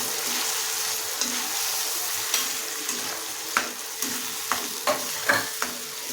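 Ground onion masala paste for egg curry fries in oil with a continuous soft sizzle, joined by a series of spoon scrapes and taps that quicken toward the end.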